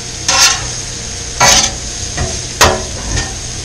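Onions being stirred in a frying pan for a patty melt, giving three or four loud, close scraping sweeps of a utensil over a steady background sizzle.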